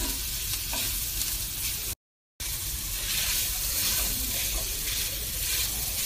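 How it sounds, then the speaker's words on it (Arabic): Boiled potatoes sizzle and get stirred in a frying pan for a samosa filling, a steady close crackle with soft scraping and a brief dropout midway. "هأحط عليه البطاطس اللي أنا سلقتها. هقلب شوية"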